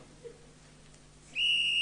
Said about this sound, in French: je pense que c'est un sifflet, ça